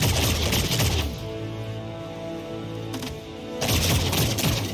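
Regular weapon fire in the video game Paladins: rapid bursts of shots at the start and again near the end, separated by a steadier humming stretch.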